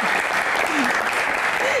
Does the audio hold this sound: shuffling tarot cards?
no